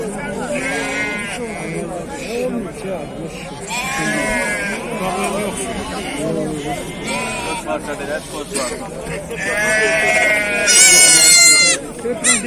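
Goats bleat repeatedly at a sheep and goat livestock market in Füzuli, with a louder burst of bleating near the end, while people talk and haggle throughout.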